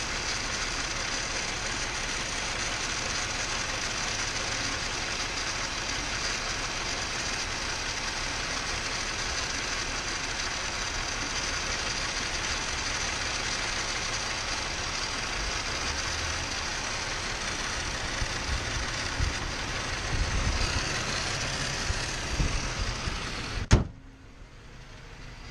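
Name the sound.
Subaru EZ30 engine idling roughly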